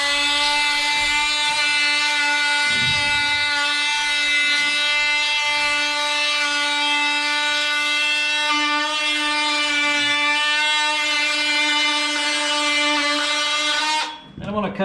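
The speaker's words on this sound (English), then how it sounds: "we're going to use our oscillating saw, and I'm going to cut a line all the way down to the floor" An oscillating saw cuts a long line down an ICF foam wall toward the floor, giving a steady high-pitched buzzing whine that runs nearly fifteen seconds and then stops abruptly at the end.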